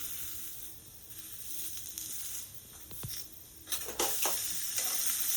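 Beans and salt are stirred in a pan with a utensil, giving soft scraping and light sizzling. A few sharper scrapes and clacks come near the end, with no voice.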